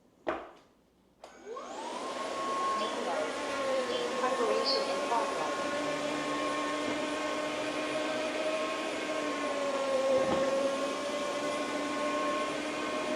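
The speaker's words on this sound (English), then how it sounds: "I'm going to try and clean it up with this vacuum using the 3 modes" Roborock F25 vacuum cleaner running steadily across a messy floor, a continuous loud motor whine with a high tone that starts after a brief click and holds for the rest of the span without speech.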